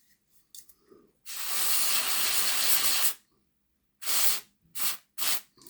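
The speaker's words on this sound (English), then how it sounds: "Give it a scoosh just to get the oil off" Aerosol cleaner sprayed onto an oily part from a Hornby Class A4 "Silver Link" model locomotive: one long hissing burst of about two seconds, then three short close spurts.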